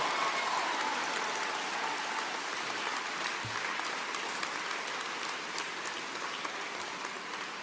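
Steady, faint applause from a studio audience on a morning show, a continuous hiss of many clapping hands with a brief low thump partway through.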